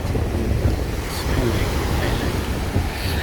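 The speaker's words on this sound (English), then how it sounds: "these waves are beautiful. They're coming onto my toes, my feet." Atlantic Ocean surf washing up on a Florida beach at Boca Raton, a steady broadband wash of breaking waves mixed with gusty wind buffeting the microphone, continuous and fairly loud throughout.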